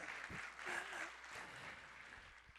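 Congregation clapping during a church sermon, a soft, distant wash of applause that lingers at an even level, with faint voices and room noise underneath.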